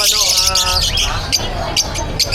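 Pet birds at a market stall squawking and chirping in dense, overlapping bursts close by, with a background murmur of people talking.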